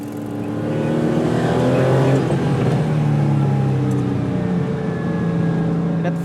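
Orange RWB Porsche with a straight-pipe exhaust drones loudly and continuously, its engine tone swelling and settling as it idles and moves through traffic, with no talk over it.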